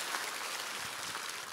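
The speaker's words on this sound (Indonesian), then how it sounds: "Tepuk tangan Tuhan Yesus" Faint, continuous applause from a church congregation during a sermon at GSJS Jakarta, a steady hiss of many hands clapping at a distance.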